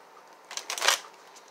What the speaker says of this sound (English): me shuffling them, getting them together, prepping and doing all that